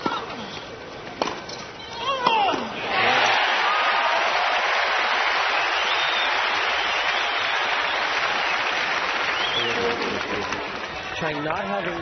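A tennis crowd at the 1991 US Open roars and cheers loudly for several seconds after McEnroe wins a point against Chang, swelling after a few sharp sounds and then slowly fading.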